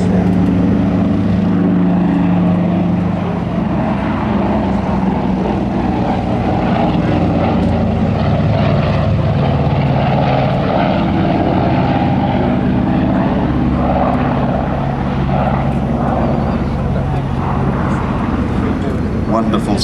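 A Grumman F8F Bearcat with an air-cooled radial engine drones at an airshow at Duxford in 2004. The propeller roar is loud and continuous, with low rumble throughout and talk mixed in.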